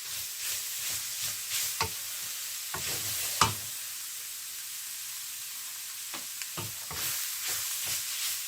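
Beetroot stirred into rice in a pan for a beetroot pulao, with a steady sizzle and repeated scraping, stirring strokes from the spoon, close and moderately loud, no voices.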